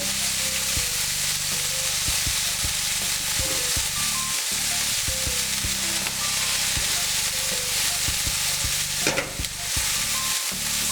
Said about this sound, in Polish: minęło mi już dwie minuty podsmażania moich polędwiczek